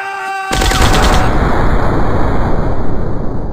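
Sustained gunfire from an FPS commando shooting video game, with a burst of rapid rattling shots at the start that settles into a continuous loud roar of fire and rumble. No talking.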